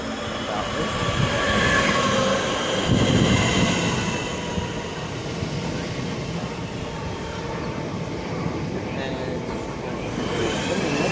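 British Rail Class 45 diesel locomotive 45 190 pulling into Belvedere station, a loud sustained rumble of engine and rolling wagons close by, with wheel noise and a voice talking over it.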